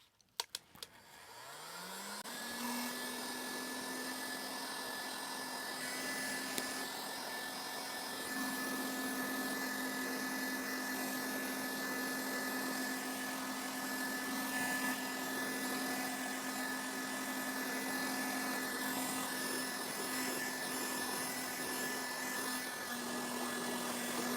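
A heat gun blows with a steady, loud whir and a sustained tone after a brief start-up click, running continuously at low temperature to dry car upholstery fabric, with no voices.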